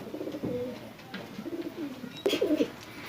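Rampuri female pigeon, a Kalsire high-flyer, cooing close by in a few short soft bursts, with light rustling between calls.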